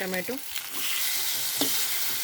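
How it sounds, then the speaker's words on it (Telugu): Onion and green chili sizzle in hot oil with cumin, a steady close frying hiss running the whole time, broken by a few brief clinks and stirring scrapes near the start and middle. "జీలకర్ర వేగింది. అందులోనే ఆనియన్, అందులోనే పచ్చిమిర్చి, ఇది కొంచెం ఫ్రై అవ్వాలి."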